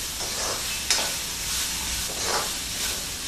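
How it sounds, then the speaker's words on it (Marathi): Cluster beans (gavar) stir-fry in hot masala for a green gavar bhaji, giving a continuous close sizzle with soft scraping surges as the spoon turns them. "आता हे व्यवस्थित परतून घेऊया। गवारी थोडी त्या मसाल्यात भाजली गेली पाहिजे।"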